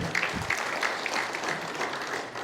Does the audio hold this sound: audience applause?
yes